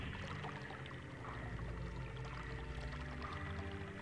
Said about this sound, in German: Wir aktivieren mal eine weitere Schleuse. Und der Wasserpegel, er sinkt wieder.